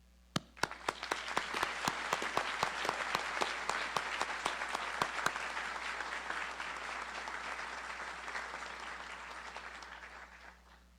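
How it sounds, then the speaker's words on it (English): Members of a medical school graduating class at a white coat ceremony applaud themselves: a few sharp, separate claps open into a full, sustained wash of crowd applause that holds steady and then fades out. "I want you all to clap for yourselves because you earned this."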